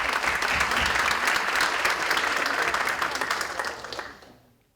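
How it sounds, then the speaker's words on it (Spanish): An audience at a lecture-style class claps steadily for about four seconds before the applause quickly fades out. "les pido aplausos para todos ustedes"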